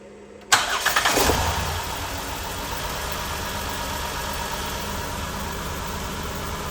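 A Chrysler Town & Country minivan engine cranks and catches with a quick starter whir, then settles into a steady, even idle, close and moderately loud, with a misfire on one cylinder.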